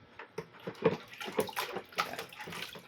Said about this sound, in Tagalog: Unti-unti na natin idagdag yung natitira natin tubig na 5 liters.